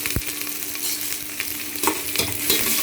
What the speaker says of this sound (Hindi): अब मेरा ये ऑयल गर्म हो चुका है, मैं इसमें डाल रही हूँ जीरा और प्याज डाल दूँगी।